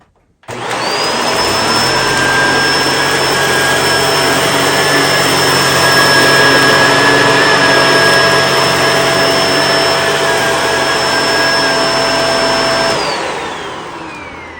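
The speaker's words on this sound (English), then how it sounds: "I'll do the usual 1 pass forward, 1 pass back through the middle, and we'll see how this machine does" A Shark Speed DuoClean NV801 upright vacuum runs on carpet with a loud, steady motor roar and high whine, starting up and spinning down after about thirteen seconds of continuous suction with no talk.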